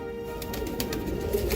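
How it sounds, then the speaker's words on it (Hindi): An old purebred pigeon coos in soft, low repeated calls close by, with faint rustles and flutters in a quiet loft. "ये प्योर ब्रीड है, ये पुराना कबूतर है"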